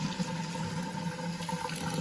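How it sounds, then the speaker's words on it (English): Water pours and rushes steadily as al dente pasta is drained into a sink, a continuous close splashing wash without pauses or voices. "Get your pasta and drain it."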